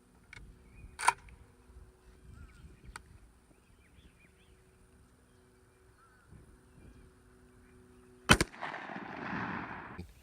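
A shotgun fires Heavy Steel 3-inch number 2 waterfowl shells, 1 1/4 ounce loads, outdoors while patterning. Two sharp, loud blasts sound about seven seconds apart, with quiet between them and a brief rumbling tail after the second.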